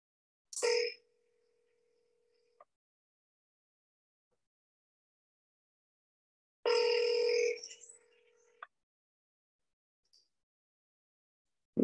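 Two bursts of telephone ringback tone during an outbound cold call to a property management company, a short one near the start and a longer, louder one midway, with silence between and no speech.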